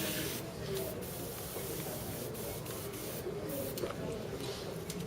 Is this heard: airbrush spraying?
yes